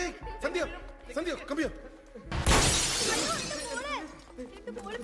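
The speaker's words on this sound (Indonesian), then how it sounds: "Khalid melindungi gadis kecil dari jatuhnya atap kaca, karena Khalid tahu kaca itu akan jatuh" A glass roof falls and shatters near an airport walkway, a sudden loud crash with a spray of breaking glass, surrounded by voices before and after.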